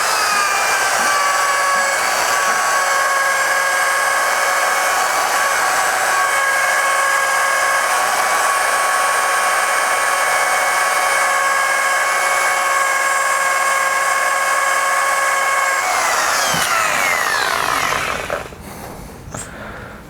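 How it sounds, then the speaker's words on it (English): Loud, steady high-pitched whir of a rotary polisher spinning while its pad is brushed out, running continuously before winding down near the end. "Let me brush out this pad real quick again."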